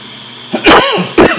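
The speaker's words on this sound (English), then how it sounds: "Excuse me for coughing." Two harsh coughs from a man, close and loud, the first longer and raspy, the second short, following a quiet stretch of room tone.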